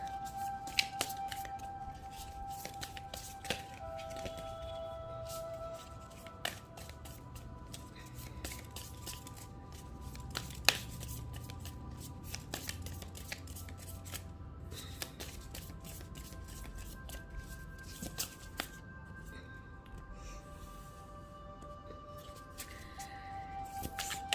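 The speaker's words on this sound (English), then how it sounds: "Let me shuffle the cards and then I will be drawing the cards" Tarot cards shuffled by hand for about 24 seconds, a steady soft papery riffling and patter with small clicks and flicks, close and fairly quiet, with no talking.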